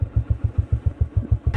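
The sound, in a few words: motorcycle riding on a mountain road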